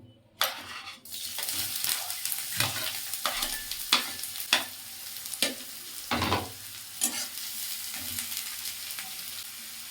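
Onions hit hot mustard oil in a wok with a sudden sizzle, followed by a crackling fry and a run of regular spatula strokes scraping the pan close by.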